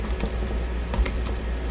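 Quick, irregular clicking of computer keyboard keys typed close by, steady light taps with a few louder strokes, no voices.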